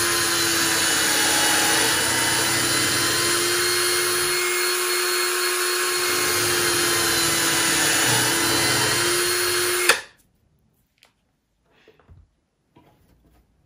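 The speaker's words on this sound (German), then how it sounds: "mit dem Bohrer mache ich jetzt hier 2 Löcher in mein Holz hinein" A drill bores holes into wood for homemade autumn mushroom decorations, making a steady, loud high-pitched motor whir for about ten seconds that stops abruptly, followed by a few faint handling clicks and taps.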